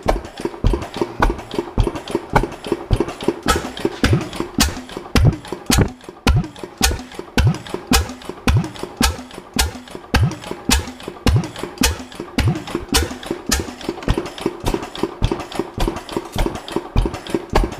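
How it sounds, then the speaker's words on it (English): A vintage stationary engine runs quietly and steadily, its regular rapid firing beats continuing without pause throughout, close by and alone with no talk. "Very quiet running engine."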